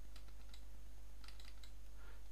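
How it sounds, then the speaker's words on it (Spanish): Mouse clicks on a computer while working in Audacity, several faint, sharp clicks in quick pairs over a quiet background hum, with no talking. "Para seleccionar toda la pista voy a hacer doble clic sobre ella."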